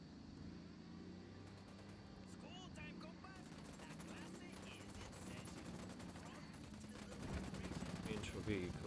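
Rapid automatic gunfire from Ghost Recon Wildlands crackles in repeated bursts under a low engine-like hum, fairly quiet overall, with a louder rumble building near the end.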